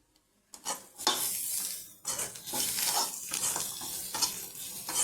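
Peanut masala being stirred in a metal pan: a series of scraping, clinking strokes of a spoon against the pan, fairly close and steady, over a soft sizzle with no talking.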